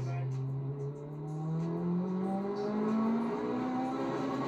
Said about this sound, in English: Okay, he's revving it up.